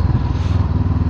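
A 2021 Honda CB500X motorcycle with its stock muffler idles close by, a steady pulsing engine throb that stays loud and even for a brief moment.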